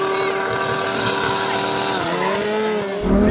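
A Lamborghini Huracan racing a Kawasaki H2R motorcycle, a loud, close engine holding a steady high drone, then the pitch drops and swells with a gear change near the end.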